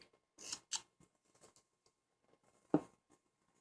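Carving knife cutting stop cuts into a small wooden carving of a sitting pup, a few quiet, close, crisp slicing snips separated by silence.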